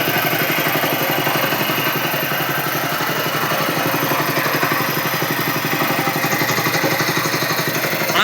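A small power weeder engine runs steadily nearby, a continuous mid-pitched putter with a slightly uneven pulse, heard alone.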